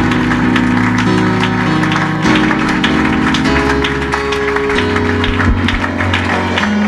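A church congregation applauds loudly during a worship service, with dense, continuous clapping and crowd noise over sustained music with shifting chords.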